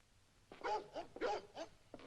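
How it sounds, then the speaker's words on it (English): A restless dog gives a short series of close, whining yelps and barks at night, each call rising and breaking in quick succession. "Dog's a bit restless."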